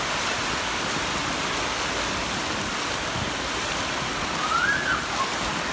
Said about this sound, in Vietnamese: Còn đây là suối ạ, nhìn không?